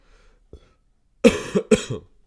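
A faint sniffle, then a pause before two sharp, close coughs in quick succession, with no speech.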